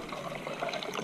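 Water runs into a container while cloths are prepared for juicing, a soft continuous trickle and splash, faint and close with no voices.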